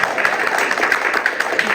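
A rally crowd claps and cheers in a dense, steady wash of applause that runs without a break, loud and close, with voices mixed into the clapping.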